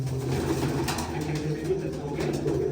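A pigeon coos in a low, repeated rumble, steady and fairly close, over a constant background hum.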